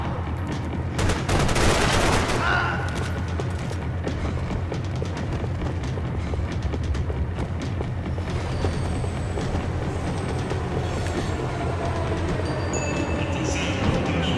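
Pistol gunfire in the Max Payne 3 video game, rapid cracking shots layered over a dense continuous din, with one especially loud burst near the start and a steady barrage continuing for the whole stretch.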